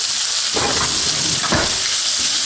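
Minced garlic sizzles steadily in a hot pan for shrimp fettuccine Alfredo, a close, constant hiss with a couple of soft stirring scrapes.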